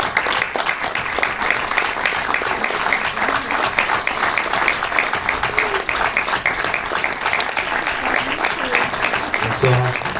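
Audience applause greets director Pierre Pinaud after a film screening, a dense, steady clapping that fills the whole stretch, with faint voices near the end.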